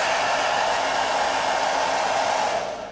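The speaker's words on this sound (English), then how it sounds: "we're just gonna do a comparison with a conventional hairdryer" A conventional hair dryer blows steadily at close range, a loud, even broadband rush that holds for nearly three seconds and then begins to fade at the end.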